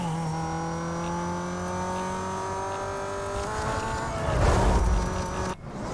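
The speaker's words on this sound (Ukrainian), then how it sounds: "давай, машинка, розганяйся" A car in Need for Speed Most Wanted accelerates hard, its engine tone climbing steadily in pitch, loud and close, ending in a brief rushing burst as it speeds past.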